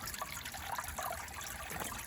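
Water from a small pump-fed bird bath spills over into a tray below, a faint, continuous trickle and dribble heard close by with no voices.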